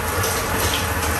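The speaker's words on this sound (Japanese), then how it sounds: "わー、飛行機の上でのシャワー、めちゃくちゃ気持ちいいですね。" Hot shower water running steadily in the first-class bathroom of an Emirates A380 in flight, a close, continuous hiss and splash with no talk.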